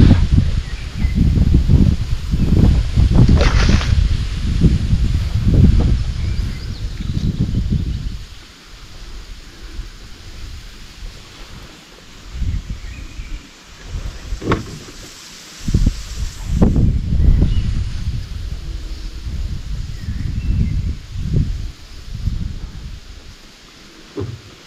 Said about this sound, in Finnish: Tämä tuuli haittaa nyt jonkin verran.